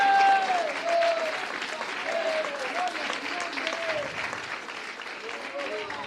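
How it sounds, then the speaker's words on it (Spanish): A church congregation applauds during a sermon, continuous crowd clapping with voices calling out over it. "Que alguien le dé un aplauso"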